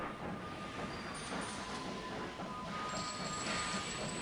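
A train running in Sid Meier's Railroads, a steady rumbling rattle of wheels on track with faint high squeals, continuous and fairly loud throughout.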